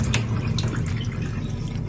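Water splashing and dripping from an Alexa smart kettle held upside down while pouring, a steady close trickle with a low watery rumble and small drips, no talking.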